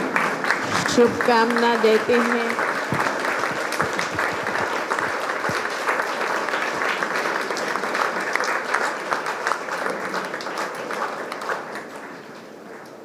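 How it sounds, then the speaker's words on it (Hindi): A crowd claps warmly at a golden jubilee celebration, dense applause starting loud and slowly thinning over several seconds; someone speaks over the clapping early on and a few voices surface as it fades. "बहुत बहुत तालियों से"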